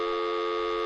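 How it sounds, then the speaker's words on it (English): A pretend time-phone ringing effect, heard as a steady electronic telephone tone held unbroken and loud throughout, with no talking. "I will fire up the time phone."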